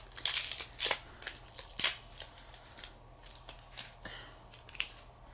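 Sharp crinkling and snapping of thin plastic wrap being peeled off a Wet n Wild Fantasy Makers primer serum, a quick run of close crackles and rustles, then quieter scattered crinkles.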